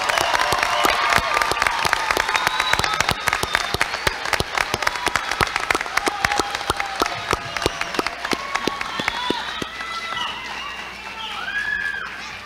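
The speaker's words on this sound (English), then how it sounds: "Let's go ahead and give our graduates another round of applause." Graduates at a 2023 summer graduation ceremony receive another round of applause, crisp sharp claps and some cheering from the crowd, with a voice speaking over it before it thins out toward the end.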